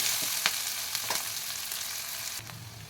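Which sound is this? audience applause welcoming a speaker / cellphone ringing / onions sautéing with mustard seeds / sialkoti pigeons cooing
onions sautéing with mustard seeds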